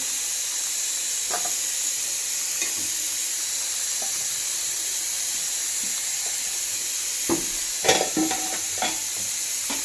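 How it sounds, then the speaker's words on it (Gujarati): Brinjals and onion sautéing in a pan for a mixed-vegetable curry, a steady close sizzle and hiss with occasional stirring clinks and scrapes that grow busier toward the end. "ચાલો રીંગણા સાતડવા માંડ્યા છે એની અંદર આપણે ડુંગળી એડ કરી દઈશું"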